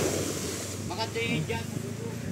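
Sea waves wash against a white sand beach in a steady, broad rush mixed with wind noise on the microphone, while a person speaks over it.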